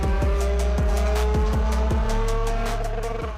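A Nissan Z with a naturally aspirated V6 in a Roblox racing game revs hard and climbs through several quick gear shifts, each marked by a brief dip and a fresh surge of engine noise.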